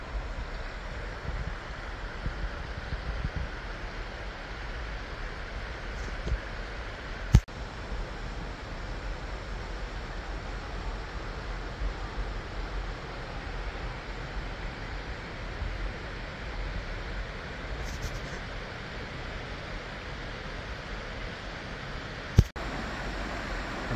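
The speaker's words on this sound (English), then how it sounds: "Absolutely stunning waterfall" A local waterfall swollen after heavy rain gives off a constant broadband rush of falling water, steady and fairly loud, with a couple of sharp clicks and no talking.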